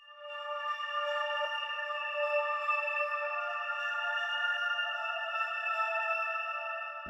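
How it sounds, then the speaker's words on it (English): Sustained synth pad from Analog Lab playing a simple slow chord progression for a dark trap beat, with soft smooth harmonic layers holding steadily at even loudness throughout, no voices. "the first thing I started with was this pad from Analog Lab, and it's a pretty simple chord progression and it sounds like this"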